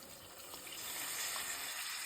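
Water added to a fish curry with fried masala and tamarind makes a steady close gushing pour that runs continuously.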